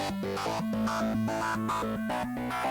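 A Casio CZ-101/CZ-1000 software emulation in Arturia Analog Lab plays a steady melodic line of bright, buzzy electronic notes, alone and evenly loud, shifting pitch in a rhythmic pattern.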